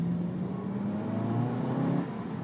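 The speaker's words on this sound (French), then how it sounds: "le moteur devient limite brutal je dirais" A Cupra car engine in Cupra drive mode revs up, its tone climbing in pitch as the exhaust opens slightly, a moderately loud, smooth rising drone lasting a couple of seconds.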